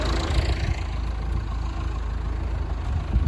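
A tractor engine idles at a village farm field, giving a steady low rumble that holds level and close throughout with no talk over it.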